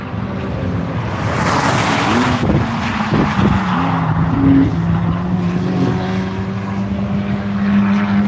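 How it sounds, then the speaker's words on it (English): A fast Tesla race car on a track roars past loudly, its engine whine rising and falling with a rushing sweep, then holding a steady tone as it pulls away. "Andrew DeConing in that wickedly fast Tesla."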